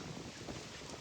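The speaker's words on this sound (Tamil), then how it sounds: "காத்து பாருங்க எப்படி அடிக்குதுன்னு" Strong wind gusting across an open cricket ground during a tournament match, a steady broadband roar buffeting the microphone continuously and loudly throughout, with no voices.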